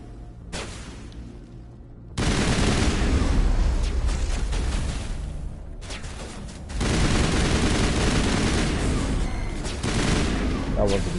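Heavy gunfire in the video game Mass Effect Legendary Edition roars in long, dense sustained volleys with brief lulls between them, loud and close, with voices mixed in.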